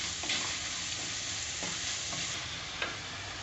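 Onions frying with salt in a pan for a Tamil chicken kulambu, a steady close sizzle with a few soft stirring scrapes and no talk.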